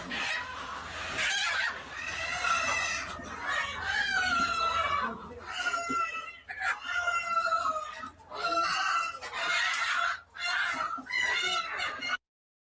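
Laying hens on a farm during conventional catching cluck, squawk and cry loudly and close by, making a continuous agitated chorus with rising shrieks and brief dips.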